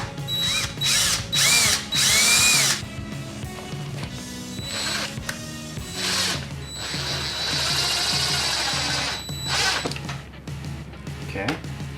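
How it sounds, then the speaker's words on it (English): A power drill whirs in short bursts and then a longer steady run, drilling a small pilot hole for a DIY Halloween skeleton prop, close up, with a voice speaking briefly between bursts. "Drill a small pilot hole."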